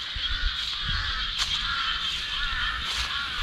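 Crows cawing in the open countryside, three or four harsh caws spaced a second or so apart over a steady background hiss, moderately distant, with no speech.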